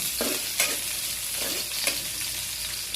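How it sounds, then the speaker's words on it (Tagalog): Ingredients sauté in a hot pan with a strong continuous sizzle, punctuated by a few scraping stir strokes, close and loud. "Konting-konting gisa lang."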